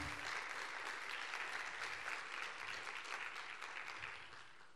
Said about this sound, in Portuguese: Arthur, uma salva de palmas